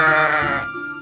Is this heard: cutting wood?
no